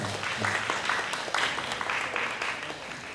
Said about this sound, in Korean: 김진래님께 다시 한번 큰 박수 부탁드립니다.